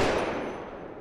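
Burst of automatic gunfire from Apex Legends Mobile, a single loud, dense volley at the start that tails off into a decaying wash of echo over about a second, with no talking.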